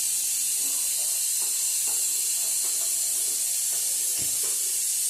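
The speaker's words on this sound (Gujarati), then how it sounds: "હવે આપણે ગેસ ચાલુ કરીશું" A gas stove is turned on in a home kitchen, giving a steady, bright hiss that holds evenly throughout, with faint soft knocks in the background.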